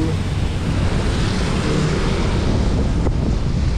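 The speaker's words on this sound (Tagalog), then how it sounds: "Lakas ng hangin." Strong wind buffets the microphone in a continuous loud roar, with no voices heard.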